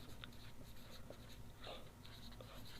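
Faint scratching of writing on a board while slopes are worked out, short marker or chalk strokes in a few bursts against a low background hiss.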